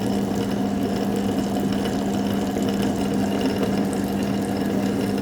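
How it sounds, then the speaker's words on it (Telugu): Mixer grinder running steadily as it grinds ginger with mango pulp for mango-ginger pickle, a continuous loud motor whir with a strong steady hum and wet churning, unbroken throughout with no talking. "దీనిని కాసేపు అల్లం కొంచెం మెత్తగా అవ్వడానికి గ్రైండ్ చేసి కాసేపు తిప్పండి"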